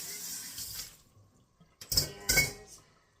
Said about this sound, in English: and rinse out my next bowl